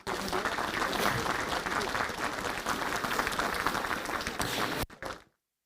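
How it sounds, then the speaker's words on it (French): Audience at a mayor's New Year ceremony applauding a local marathon runner, a steady, dense round of clapping that stops abruptly. "Je crois qu'on peut l'applaudir."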